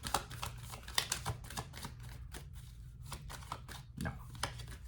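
Oracle cards are handled and shuffled, giving a quick run of crisp, close flicks and slaps in an irregular rhythm, fairly quiet.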